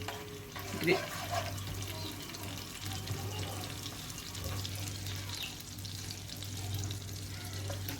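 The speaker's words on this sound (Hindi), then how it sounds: "इसमें मैं चिकन के पीसीस को फ्राई कर लूँगी" Chicken pieces fry in oil over a medium flame for an Afghani chicken gravy, giving a continuous close sizzle with occasional stirring and scraping, plus a low steady hum underneath.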